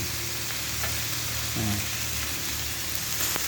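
Continuous loud sizzling of meat grilling on a flat Korean-style grill pan, a steady crackling hiss with a brief scraping stir in the middle.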